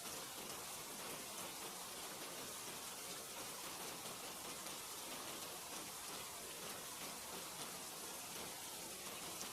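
Steady rain falls continuously on a surface, a dense, even hiss with scattered drops, with no voices and no pauses.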